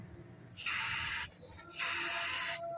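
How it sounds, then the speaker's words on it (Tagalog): Spray can applying top coat to a scabbard, two steady hissing bursts of about three-quarters of a second each with a short pause between, close and fairly loud, no voices. "Ngayon, i-spray na natin ng top coat."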